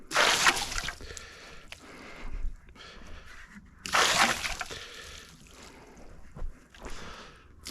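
Water splashed onto the freshly sawn face of a walnut log on a bandsaw mill, two close, loud splashing bursts separated by quieter sloshing and trickling.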